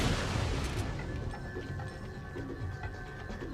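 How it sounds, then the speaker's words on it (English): Dense booming rumble and crackle of an explosion and gunfire in the video game Resident Evil 4, loud at first then settling into a continuous low roar with scattered pops. "We're gonna actually head towards that explosion."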